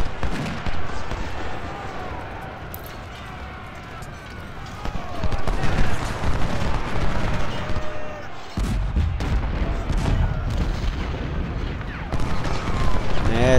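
Musket volleys and cannon fire boom and crackle in an American Civil War strategy game, Ultimate General: Civil War, with heavy dense rumbling salvos that rise in bursts throughout, while someone talks over the din.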